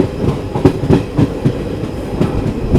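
A train entering Kadur Junction in Karnataka rumbles along with a steady clickety-clack of wheels over rail joints, loud and close, with no talking.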